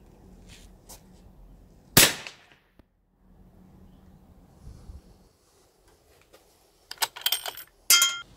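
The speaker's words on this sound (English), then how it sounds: "you just heard the first bullet from the AK-47, that's subsonic" A single subsonic AK-47 rifle shot cracks out sharply over low background hum, followed later by a few quieter sharp clicks and rattles near the end.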